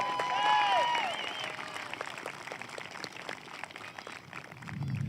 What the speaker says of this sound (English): Please share a round of applause for our senior class advisor, Mr. Fioro.